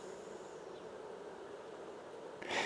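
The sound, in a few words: honeybees buzzing in an open hive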